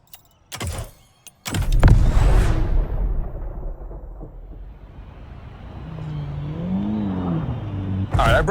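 The Hoonicorn in The Crew Motorfest revs loudly after a few sharp bursts, then settles into a lower, wavering engine tone that rises and falls before a final burst at the end.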